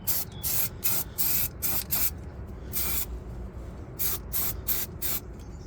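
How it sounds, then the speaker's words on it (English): A pressure washer sprays dirt off Volvo 240 parts in short, loud hissing bursts that start and stop repeatedly, with a low rumbling drone continuing between the blasts. "I need to get the pressure washer in here because there's that much dirt still."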